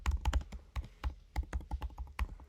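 Keys on a computer keyboard clatter in a quick, uneven run of close, distinct taps with short pauses between bursts, with no voices.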